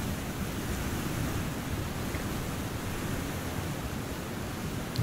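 A waterfall inside a cave in the survival video game The Long Dark makes a steady, even rush of falling water that holds at a constant level throughout, with no talking.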